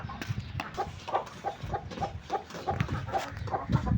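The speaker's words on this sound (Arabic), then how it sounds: "دي فرخة راقدة على البيض، يا رب تطلع بس" A hen brooding on eggs on a rooftop clucks in a steady run of short, repeated calls, close and fairly loud, with faint background noise and no talk.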